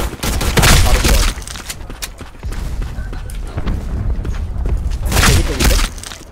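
Bomb blasts in the Blade & Soul arena battle, a dense roar of explosive bursts and crackling impacts, loudest near the start and again toward the end, with combat noise running throughout.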